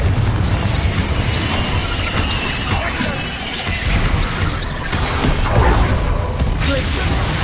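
Spell explosions from the Confringo curse in Hogwarts Legacy, loud dense booms and crackling bursts layered over constant battle noise, with shouted voices mixed in throughout.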